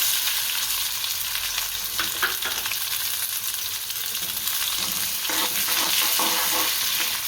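Onions frying with cumin seeds in a pan for roti noodles, a steady close sizzle broken by intermittent scraping stirs, with no talking.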